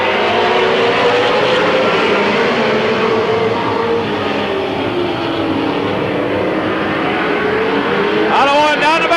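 Race cars roar around the oval at Midvale Speedway in 1995, a loud, continuous engine drone with rising and falling pitch as the pack passes, captured close to the track.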